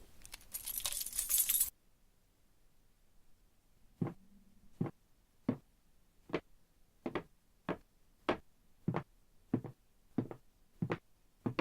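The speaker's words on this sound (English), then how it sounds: "Props can be literal, like the keys from the short film." A bunch of keys used as a Foley prop, shaken in a steady series of about a dozen sharp metallic jingles, close and clear in a quiet room, after a brief burst of noise at the start.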